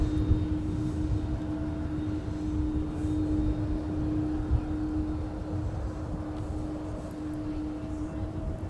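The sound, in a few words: Boeing 787 Dreamliner aircraft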